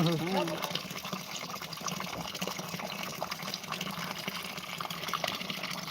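Continuous rushing gush of water from a motor pump, loud and steady throughout, with faint voices in the background.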